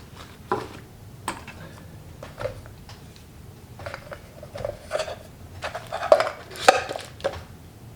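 A lightweight backcountry cooking pot set with a stove and lid is nested and packed back together, giving scattered close metallic clinks and clatters, sparse at first and then busier and louder toward the end.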